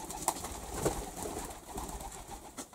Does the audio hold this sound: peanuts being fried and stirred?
no